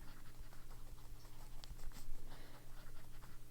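A fountain pen filled with Diamine Pansy ink writes on paper with quiet, continuous scratching strokes and small taps, faint and close against a low background hum.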